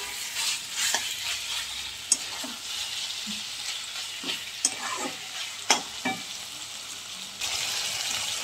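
Mutton sautés with a little hot water in a pan for a mutton and potato curry, a steady close sizzle broken by scattered sharp spatula scrapes and clicks, with no voices.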